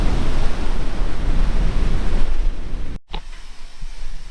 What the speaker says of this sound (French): On finit le week-end avec ces superbes vagues